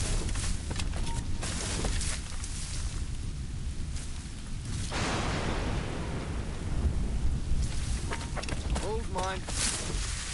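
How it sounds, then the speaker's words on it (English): A thunderstorm in the video game Assassin's Creed Rogue rumbles on, a low rolling roar of thunder and heavy rain that swells midway and runs continuously, with faint bits of voice near the end. "This storm's getting worse."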